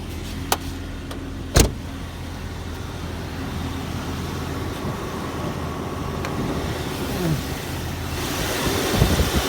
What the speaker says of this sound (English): AC is running, that's why it's noisy